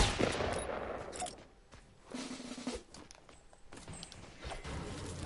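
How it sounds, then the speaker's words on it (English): Video game gunfire for a last-bullet headshot: a few sharp, punchy shot bursts heard fairly quietly, with a strong crack near the start and another around the middle, over a busy background of game noise. "Last bullet headshot"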